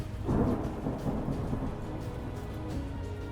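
A violent thunderstorm in the wild, with a deep rolling thunder rumble building early and fading into steady, dense rainfall that continues throughout.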